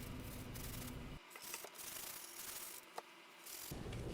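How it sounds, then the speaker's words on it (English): Rhythmic rubbing strokes of sandpaper on wood, close and fairly quiet, with a low hum coming and going in the background. "I'll give it a quick sanding"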